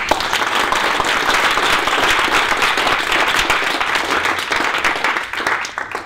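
A crowd at a Transhumanist Party political gathering breaks into a loud, dense round of applause that holds steady for several seconds before thinning slightly at the end.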